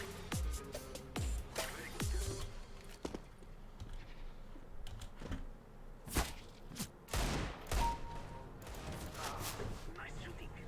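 Gunfire from the game CS:GO, with sharp shots and rapid bursts scattered through the clip during headshot kills, fairly quiet and mixed with other game sounds.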